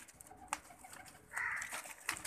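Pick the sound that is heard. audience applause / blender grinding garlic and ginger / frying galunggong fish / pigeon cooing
pigeon cooing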